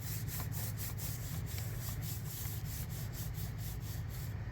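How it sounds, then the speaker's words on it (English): Foil being rubbed and burnished onto glue on a mixed media tag, a steady close scratchy rubbing that continues throughout with a low hum underneath. "as I am applying the foil, it is rubbing off"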